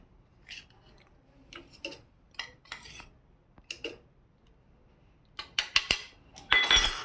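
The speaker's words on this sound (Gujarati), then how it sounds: "પહેલાં આપણે લસણને અધકચરું ટોચી નાખવાનું છે." Garlic is pounded coarsely by hand for a rustic Gujarati garlic chutney, heard as irregular sharp knocks and clinks spaced apart at first, then coming faster and louder toward the end.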